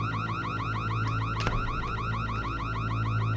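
A car alarm blares continuously with a rapid repeating warble over a steady low hum, loud and close throughout, with a brief sharp thump partway through.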